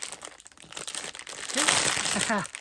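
Plastic packaging crinkles and crackles while being opened, starting as scattered faint rustles and building into a louder, dense crinkling burst, with a voice talking over part of it.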